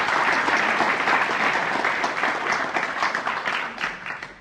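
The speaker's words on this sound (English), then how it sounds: "And you applaud, as you should" A lecture audience applauds a talk on Henry Kissinger's crimes: dense, steady clapping from many hands, loud and close, holding for a few seconds before thinning slightly toward the end.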